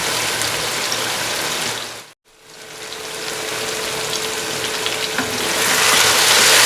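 Tomatoes simmering down in a pan of chicken karahi give a steady, close frying sizzle with bubbling. It cuts out briefly near the start, then returns and grows slightly brighter toward the end, with no voices.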